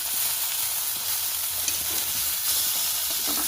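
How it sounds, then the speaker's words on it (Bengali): Prawn paturi wrapped in gourd leaves sizzles steadily in a hot wok, a dense continuous frying hiss with faint shifting and stirring touches throughout. "কড়াই দেওয়া পাতুরিগুলোকে খুব হালকাভাবে সাবধানে আমি উল্টে দেবো"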